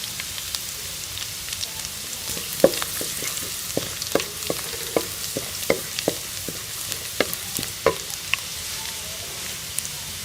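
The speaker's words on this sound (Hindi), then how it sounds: "इसके साथ ही हम इसमें कटा हुआ लहसुन डाल देंगे। इसे भी 1 मिनट के लिए हम इसमें फ्राई कर लेंगे।" Steady sizzling of chopped garlic frying in hot oil, with scattered sharp pops and crackles throughout, close and moderately loud, no voices.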